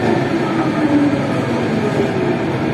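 A Siemens VAL 208 automated metro train on the Toulouse line between Borderouge and Ramonville passes close by, a steady loud rumble and rolling roar throughout with no speech.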